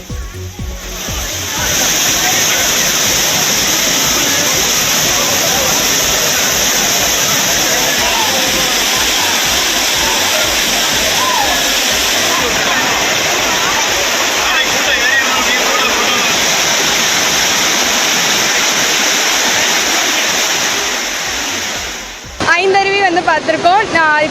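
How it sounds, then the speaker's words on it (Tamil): Water gushing down the Courtallam waterfalls, a loud continuous roaring rush that fills the whole clip, with a brief shift in tone near the end. "அனைத்து அருவிகளிலும் தண்ணீர் ஆர்ப்பரித்து கொட்டுகிறது"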